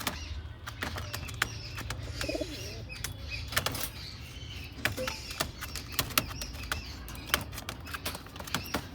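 Soft pigeon coos repeat in a busy outdoor setting, with scattered sharp clicks and taps and a low steady hum underneath.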